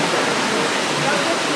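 Risco waterfall and small streams on Madeira make a dense, steady rush of falling water, loud and close, with no pauses.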